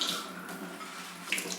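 Running tap water pours steadily over a block of soft tofu at a kitchen sink, a continuous close hiss and splash with a brief sharper splash near the end.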